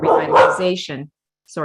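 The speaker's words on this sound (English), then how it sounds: "that's my dog." A dog barks twice in quick succession, close and loud. A person speaks over the first bark, and a further bark follows after a short silence.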